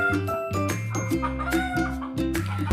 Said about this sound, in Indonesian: kalau misalnya di dalam dubbing aku itu banyak banget suara ayam